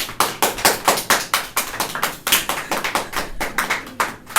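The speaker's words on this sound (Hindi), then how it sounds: "जोरदार तालियां पहले तो सर के लिए।" An audience applauds a poet at a shayari session with close, loud, steady clapping in a quick, regular rhythm of sharp beats that continues throughout without a break.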